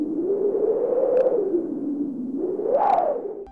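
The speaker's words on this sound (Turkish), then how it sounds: "Bu rüzgarın sesiydi çocuklar." Cartoon wind sound effect in a sound riddle: a smooth, hollow whooshing tone slowly rises and falls in pitch, swelling twice, steady and alone.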